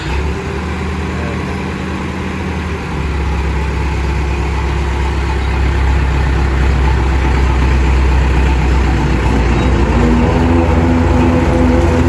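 A Massey Ferguson 265S tractor engine starts and settles into a steady, loud, close diesel running drone while driving a hazelnut thresher, its low rumble continuous throughout.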